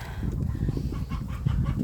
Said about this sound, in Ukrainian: кури наплодилися в цьому році